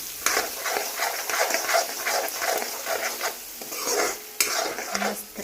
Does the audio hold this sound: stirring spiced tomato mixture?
yes